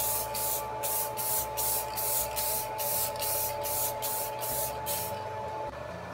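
Krylon clear gloss coat hisses from an aerosol can in a rapid series of short, even bursts, about a dozen in all, close up against a steady background hum.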